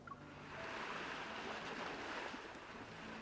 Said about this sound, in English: Why do I hear waves in the background?